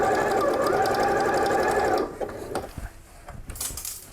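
A sewing machine backstitches patchwork at a steady whirring, rattling run for about two seconds, then stops, followed by faint clicks and handling noises.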